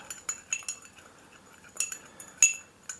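A utensil stirs a small bowl of light soy sauce, sesame oil and sugar, giving a handful of bright metallic clinks and taps against the dish, close and quiet, without talking.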